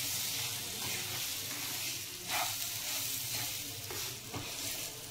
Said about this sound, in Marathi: पुन्हा 2 मिनिटं असं हलवून घ्यायचं।